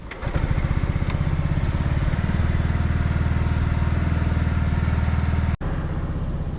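A SYM ADX motorcycle engine fires up and settles into a steady, rumbling idle close by, then cuts briefly before running on.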